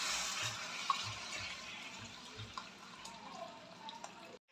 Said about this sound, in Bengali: তারপর আমি এখানে জল ঢেলে দেব।